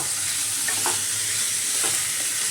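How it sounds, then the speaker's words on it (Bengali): 300 grams of chicken mince fry and sizzle in a pan while being stirred, a steady close hiss with faint scraping strokes. "এবার আমি দিয়ে দেব চিকেন কিমা"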